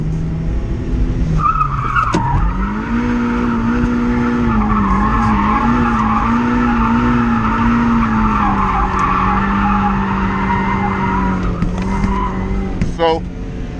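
Race car on a track sliding in first gear at low speed, a loud sustained tire squeal with a wavering engine tone under it for about ten seconds, with people talking over it.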